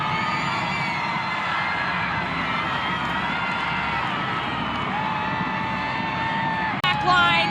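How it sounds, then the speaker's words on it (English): A women's soccer stadium crowd at Seattle Reign versus Bay FC roars after Seattle Reign's equalizer, a loud sustained wall of cheering, whoops and shouts with no break throughout. "The crowd goes wild because Seattle Reign have equalized"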